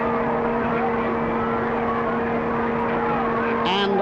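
Cars and a military motorcycle escort of the 1963 presidential motorcade pass through Dublin city streets, a steady loud engine drone with a rising whine near the end, heard under a broadcast commentator's voice.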